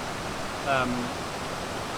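A flowing river in a forest in El Guaviare, Colombia, a steady broadband rush of water, fairly quiet, with a brief faint tonal chirp partway through.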